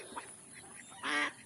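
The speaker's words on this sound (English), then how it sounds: "You can see there is duck and there is hen also." Ducks quacking on water at a walking spot where hens are also about, one short loud burst of calls near the end after a few faint sounds.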